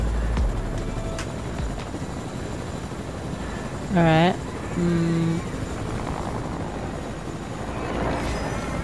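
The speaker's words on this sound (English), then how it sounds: "Oh, no, no, the helicopter's here." A helicopter arrives in Fortnite Battle Royale with a steady, droning rotor wash that runs throughout. Brief in-game chirps and tones cut through, and a voice speaks a single word.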